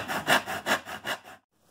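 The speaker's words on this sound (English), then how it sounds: "cut a piece of bamboo to the length that I want" A hand saw cuts through a piece of bamboo in five quick, rhythmic rasping strokes, close and clear, then stops abruptly into silence.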